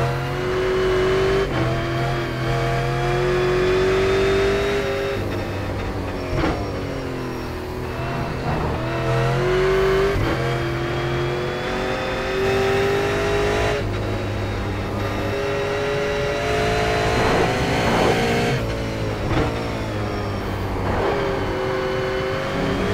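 A V8 race car engine roars steadily in iRacing at Road Atlanta, revving up and down through gear changes and corners, loud and continuous for the whole lap with no talking.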